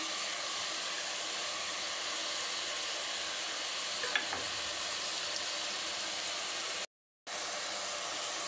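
Roasted, washed dal and salt sizzle in a hot pan, a steady hiss of frying that runs without pause before a brief dropout near the end.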